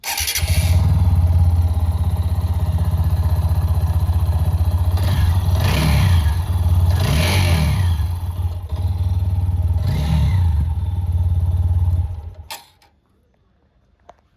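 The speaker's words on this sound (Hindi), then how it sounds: "इंजन नॉइस क्या है, जो मैकेनिकल क्लटर आता है from the head of the engine" An Apache 200 4V motorcycle engine running on Motul 10W40 oil idles with a steady low rumble and mechanical clatter, revving briefly a few times before cutting off abruptly.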